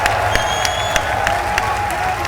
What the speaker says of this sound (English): The crowd feeling it.